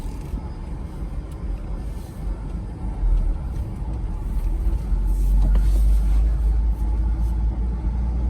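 A rusty Porsche Boxster project car creeps forward under its own power in first gear, its low engine rumble swelling steadily and staying loud and close throughout.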